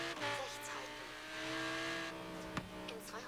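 Sports car engine revving hard in the racing game Forza Horizon 3, a steady sustained drone with shifting pitch across the clip and a sharp pop near the end, loud and close with no talking.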